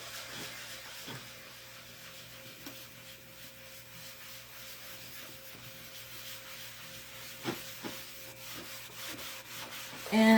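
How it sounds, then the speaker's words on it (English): A board eraser rubs wet chalk off a chalkboard, giving a soft continuous scrubbing with scattered light knocks, fairly quiet and steady, with a louder bump at the end. "I'm going to take my board eraser."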